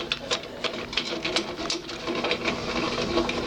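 A drill press table is hand-cranked upward in a workshop, giving a quick, even run of close mechanical clicks and ratcheting that repeats steadily with no talk.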